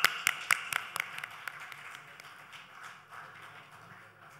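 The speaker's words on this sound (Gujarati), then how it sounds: "જોરદાર તાળીઓ મેમ માટે." At a theatre and film award ceremony, an audience claps in a quick burst of sharp, separate hand claps that soon thin out and fade into a soft, scattered patter of applause.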